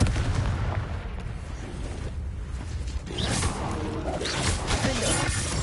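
In Hogwarts Legacy on hard difficulty, the Confringo blasting spell explodes amid a dense, noisy battle, with a crackling burst and whooshing blasts around the midpoint over a constant rumbling din.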